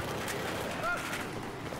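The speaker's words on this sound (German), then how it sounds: "Warte, hier fallen wieder überall Schüsse." Gunfire in a Battlefield 4 multiplayer match on the Versunkener Drache map, distant muffled shots and rumbling blasts under steady game ambience, with no voices.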